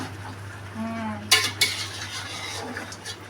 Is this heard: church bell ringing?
no